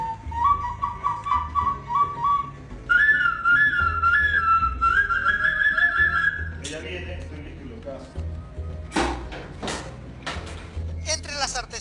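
Handcrafted traditional clay whistles blown in bright, warbling melodic phrases for several seconds, followed by scattered sharp clicks and knocks.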